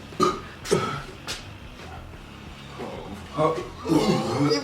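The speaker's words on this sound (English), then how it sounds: "I just need a burp." Short bursts of burping during a European burping challenge, mixed in with nearby chatter and laughter.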